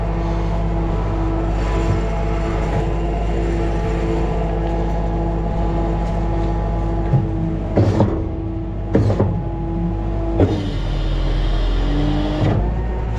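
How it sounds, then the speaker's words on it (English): A Putzmeister or Schwing concrete pump cylinder driven hydraulically to the end of its piston stroke over a steady loud engine drone, with a few sharp clunks and hissing surges near the end. "I'll just pressure out this cylinder on this side too. Brings that piston all the way to the end of the stroke."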